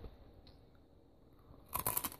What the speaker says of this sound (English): That crunch, though.